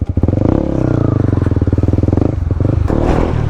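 A Honda CB150X motorcycle on a solo highway ride, its engine thrumming loud and close with steady rapid pulses, a brief rev and some rattling clatter near the end.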